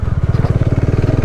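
A motorcycle engine chugs in a steady, pulsing low rhythm while the bike crosses a river along the Kanti Lokpath road between Hetauda and Sindhuli, with splashing clatter mixed faintly into the close engine note.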